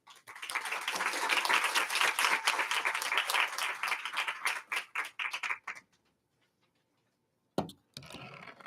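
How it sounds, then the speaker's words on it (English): An audience at a Washington, DC summit gives a speaker a round of applause, a loud burst of close and distant clapping that thins to scattered claps and fades to silence before a final few handclaps. "Please join me in a round of applause for Paula Scanlan."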